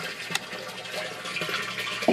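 Bell siphon draining water from a blue barrel aquaponics grow bed: faint gurgling and trickling with small irregular splashes and a louder glug at the end, close by, with no talking.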